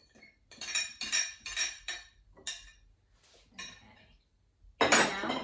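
Spatula or spoon scraping melted chocolate and butter from a bowl, several quick clinking scrapes in a row, close, then a louder rasp at the end.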